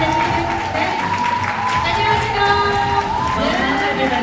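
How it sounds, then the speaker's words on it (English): Applause and cheering from the audience at a Seoul press conference for the film Deadpool & Wolverine, a steady crowd wash heard under talk and background music for the whole clip. "A warm round of applause."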